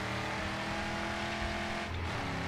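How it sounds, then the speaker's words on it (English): A video game car engine drones loud and steady with layered tonal hum, briefly dipping and shifting pitch as if changing gear, with no talking. "Oh, I love the sound of the engine on this thing."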